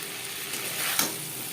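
Mourola fish and potatoes cooking in an onion-tomato gravy over a medium flame give off a steady, soft frying hiss, with a brief stir-like rustle near the end.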